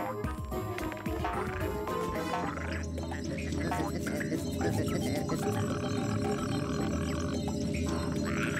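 Tyrannoid creatures in the Ratchet & Clank: Up Your Arsenal video game communicate in long, gurgling, croaking burps, rolling and throaty, sounding close and loud over a game backdrop with no clear talk.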